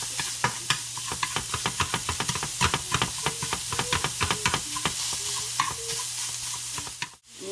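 Sausage for gravy frying and being chopped up in a pan, rapid repeated scraping and tapping strokes over a steady sizzle, close up, ending abruptly.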